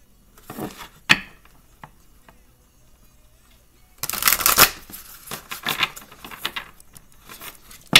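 A Divine Oracle card deck is shuffled in several separate bursts of riffling and flicking, close and crisp, with quiet pauses between them.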